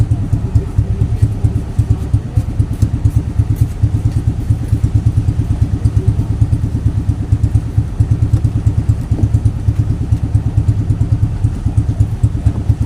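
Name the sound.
motorcycle engine running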